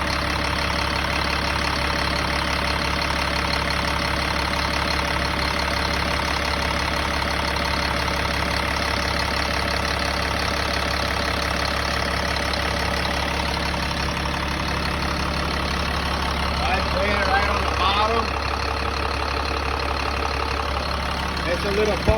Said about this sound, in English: As you can hear, this is how the engine sounds.